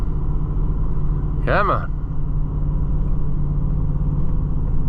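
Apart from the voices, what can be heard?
John Deere 1020 tractor engine climbing in second gear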